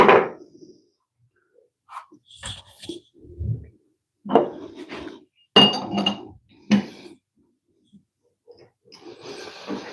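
Metal screws and bolts rattle and clink as a hand rummages through them in a woodturning shop, a series of short, separated clattering bursts with quiet gaps between, close and fairly loud.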